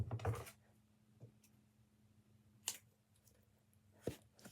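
Scissors snip out pieces of a paper dragon craft in a few separate sharp cuts: a cluster at the start, then isolated snips spaced seconds apart, fairly quiet and close with no talking.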